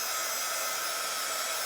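A hair dryer blows air onto a canvas being dried for chalk work, a loud, steady, close whooshing roar that holds constant for the whole stretch with no voices.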